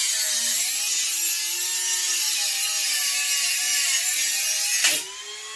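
A hacksaw cuts through a spring on an old barn-find bike, a loud, harsh continuous rasping grind with a shifting metallic squeal that stops suddenly near the end.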